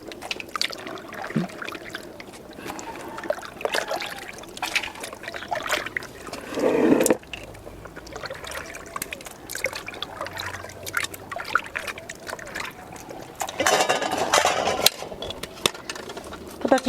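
Walnuts are washed in water, with close trickling, sloshing and splashing as hands stir them, plus a couple of louder splashes and a quiet voice in the background.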